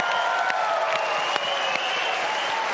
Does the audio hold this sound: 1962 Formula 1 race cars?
no